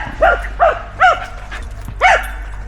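Dogs bark and yip in a small woodland on a walk, four short, fairly loud barks in an uneven rhythm with slight whimpering tone, close by and without talk.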